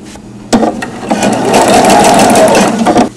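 A sewing machine stitches along welt cord, starting with a click and then running as a loud, steady, rapid whir for a few seconds before stopping.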